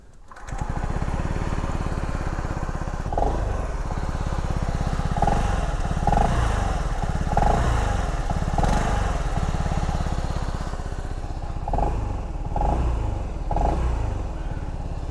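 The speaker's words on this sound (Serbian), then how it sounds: "Sad, ajmo da ga startujemo, da čujete samo taj zvuk motora prilikom paljenja" A 2024 SYM ADX 125 scooter's engine starts after a short crank and settles into a steady, close idle with a rattly putter, occasional revs and clicks, no one speaking.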